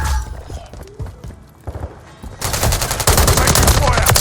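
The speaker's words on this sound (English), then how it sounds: "Taking fire over here." Rapid gunfire in the video game Call of Duty: Modern Warfare III multiplayer, scattered shots at first, then building into dense, loud sustained bursts in the second half.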